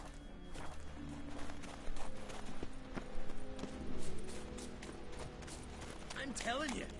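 Hoof clip-clop from a large horse in The Witcher 3, steady footfalls moving at a walking pace beneath game music and ambient sound, with a voice speaking over it.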